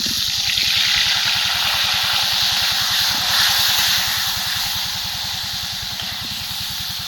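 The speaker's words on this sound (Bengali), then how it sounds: "তেল গরম হয়ে গেছে, আলুগুলো ভেজে নিচ্ছি।" Potato pieces fry in hot oil for mango chicken, giving a loud steady sizzling hiss with a fast bubbling flutter underneath, close and continuous, easing slightly toward the end.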